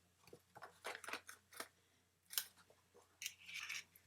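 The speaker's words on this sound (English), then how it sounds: "I like to take the bone folder and just go in there and give it a good rub." Bone folder rubbed firmly over folded paper on a handmade St Nick treat box, giving a series of short dry scraping strokes in bursts, close and fairly quiet with pauses between.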